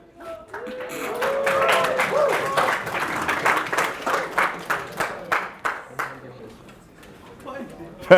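Students applauding in a lecture hall, a burst of clapping that builds quickly, holds steady, then thins to a few scattered claps before trailing off, with some voices mixed in.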